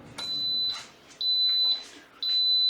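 A pressure cooker signals that a chicken pumpkin chili is done with three evenly spaced high electronic beeps over faint room noise, each lasting about half a second.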